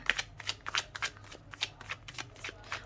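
Tarot cards shuffled by hand at a reading, a rapid, close series of crisp riffling flicks and slaps in an uneven rhythm, with no voices.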